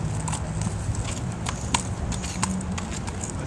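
Hooves of a mounted police horse clip-clop at a steady walking pace, a run of sharp knocks coming close and fairly loud over a low crowd and street murmur.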